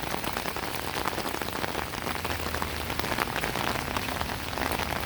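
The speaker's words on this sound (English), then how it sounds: "Good time for rain." Rain falls steadily on a house with a porch, making a dense, even patter and hiss that stays constant throughout with no voices.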